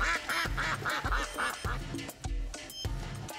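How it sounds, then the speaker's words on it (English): Rubber ducks quack in a steady run of repeated squeaky honks, close and loud, about eight calls in a regular rhythm with no talking. "Rubber ducks are attacking our friend Redhead."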